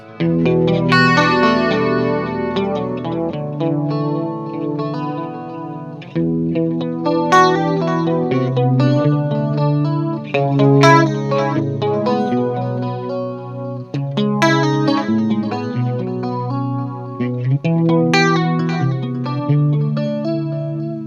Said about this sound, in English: the chorus is really nice, and it also sounds like this